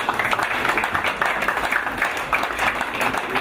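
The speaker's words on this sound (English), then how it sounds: "can we clap our hands for..." An audience at a farewell party for the RPC of the North Kyoga Region claps hands together, a loud, dense, continuous burst of applause close by.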